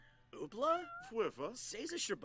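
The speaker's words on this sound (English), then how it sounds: "That's just the cat. It's just the cat." A house cat meows over several rising and falling calls, close and fairly loud, with people talking over and around it.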